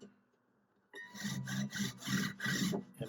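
A recrown file works the frets of a Fender Paramount acoustic guitar, starting after a near-silent pause into steady, rhythmic rasping strokes, close and fairly loud, about five back-and-forth passes.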